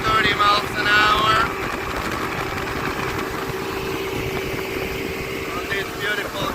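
Motorboat engine cruising at about 30 mph across glassy, calm water on Puget Sound, a steady low drone with hull and wind rush throughout, while people talk over it near the start.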